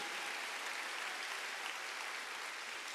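A church congregation at a Wednesday service claps steadily for a few seconds, a dense, even wash of applause with no talking.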